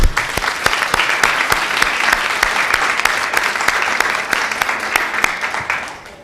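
Audience at a panel discussion session applauding the panelists, steady sustained clapping from a room full of people that fades out near the end.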